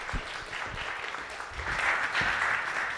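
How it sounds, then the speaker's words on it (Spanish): Applause from a conference audience at an international event on public-private partnerships, a steady, fairly soft wash of many hands clapping, swelling a little toward the end. "Un aplauso para los..."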